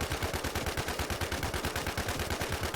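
Rapid automatic gunfire from the video game Infestation while shooting a boss at Ridgeway Airport, a dense, even burst of shots repeating several times a second, loud and continuous.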